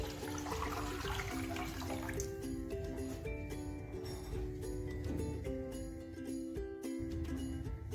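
Strained chicken stock is poured into a wok in a continuous, close liquid stream that splashes heavily at first, with a steady tonal background running underneath.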